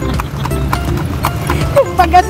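Horse hooves clip-clop steadily as a kalesa carriage is pulled along, close and loud, with a brief whinny near the end and talk over the rhythm.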